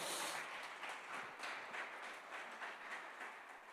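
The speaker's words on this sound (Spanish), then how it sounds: "Entonces denle un aplauso al Señor bien fuerte." Congregation applause at a church service, a steady dense wash of many hands clapping loudly throughout with no voices standing out.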